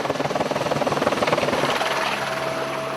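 A police search helicopter flies low over thick bush and rough terrain near a riverbed, its rotor chopping in a steady rapid pulse that is loud and close throughout, with no voices.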